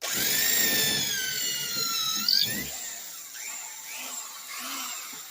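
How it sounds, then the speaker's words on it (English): A vintage Sears electric drill whines steadily at high pitch, then winds down, followed by a few softer bursts as the bit bites into wood. "This is some funny wood here I'm drilling"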